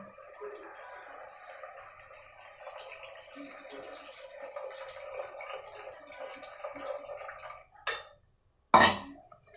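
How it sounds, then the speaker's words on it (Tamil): Tamarind water pours steadily into a pot for several seconds, then two sharp metallic clanks follow. "நான் இந்த அளவுக்கு புளி ஊற்றுறேன்"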